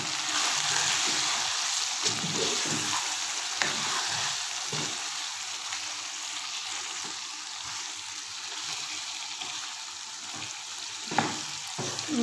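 Chicken fries with spices in a pan, a steady hissing sizzle with occasional stirring clinks and scrapes, loud and close, without talking.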